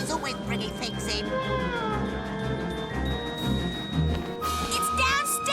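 A cartoon cat meows and caterwauls in a long, wavering cry, loud and close, with speech and other sounds around it in an animated 1995 adventure.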